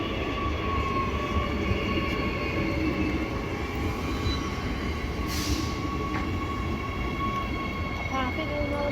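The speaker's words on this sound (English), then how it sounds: "airport line train" A Perth airport line train, a B series set, passes at East Perth station with a loud, steady rolling rumble, faint wheel squeal and tonal motor hum throughout.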